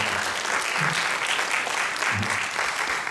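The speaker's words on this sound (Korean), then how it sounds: "박수 한번 다시 한번 해주세요." A church congregation applauds during a Sunday service, a steady wash of clapping that holds through the short stretch, with a voice briefly audible underneath.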